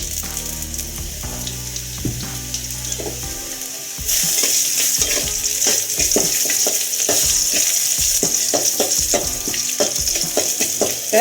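Sliced onions with a little salt fry in a pan for a chickpea masala, with a spoon scraping and stirring. The sizzle grows markedly louder and hissier halfway through, while repeated stirring clacks continue close up.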